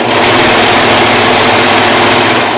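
A serger sewing and trimming off the seam allowance along a fabric edge, its motor giving a loud, steady whirring hum from start to finish.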